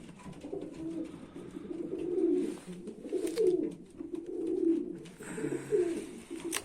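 Pigeons coo softly and continuously, low throaty murmurs overlapping in a gentle rolling rhythm, fairly quiet with faint rustling.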